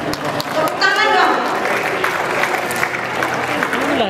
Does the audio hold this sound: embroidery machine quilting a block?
no